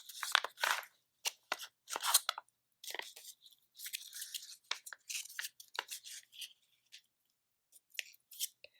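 Scissors snip through fabric along a paper pattern, a series of close, crisp cuts in irregular bursts separated by short silences, with no talking.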